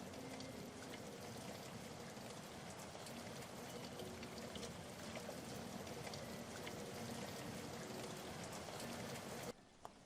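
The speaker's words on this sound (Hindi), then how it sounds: "अचानक बिजली चमकने लगी और ज़ोर से बारिश होने लगी।" Heavy rain pours steadily in a horror animation, a dense, even wash of falling water that continues without letup before cutting off abruptly near the end.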